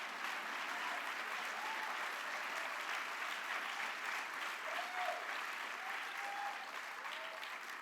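Sustained audience applause fills a keynote address at a justice conference, a dense, steady clapping that holds evenly loud from start to finish with no voices breaking through.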